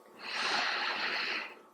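A single long nasal inhale during a yoga breathing exercise, a close, airy hiss that swells quickly and holds steadily for over a second before tapering off, with no talking over it.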